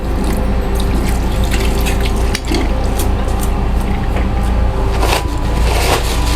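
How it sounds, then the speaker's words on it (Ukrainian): Steady running water, pumped from a canister by a foot pedal in a dental vehicle, splashes into a sink basin, a continuous broadband hiss with faint clicks of the pump mechanism underneath; no talking. "На педальку можна натиснути, насос подає вже з каністри воду."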